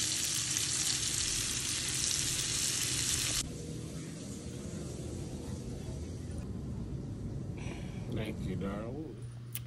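A steak frying in a pan sizzles loudly and steadily, the hiss easing partway through and carrying on under people chatting nearby.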